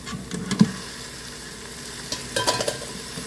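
Beef strips sautéing in a pan, a soft steady sizzle with scraping stirs and a few sharp knocks of the utensil against the pan, no talking.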